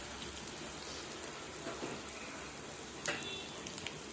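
Cumin seeds and asafoetida sizzle in hot ghee, a soft, continuous crackling hiss like light rain, fairly quiet and close, with a few brief clicks and pops breaking through.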